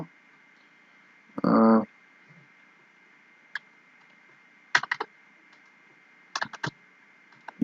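A headline is typed on a computer keyboard in a quiet room, with a few sparse clusters of light, close key clicks after a brief spoken word, faint overall against a low steady hum.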